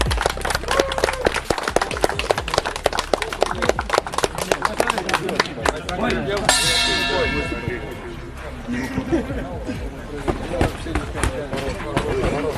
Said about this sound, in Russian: Поддержим бойцов, аплодисменты!